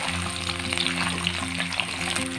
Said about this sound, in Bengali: তেলটা ভালো করে গরম হয়ে যাওয়ার পর করলাগুলো দিয়ে ভালো করে ভেজে নেব।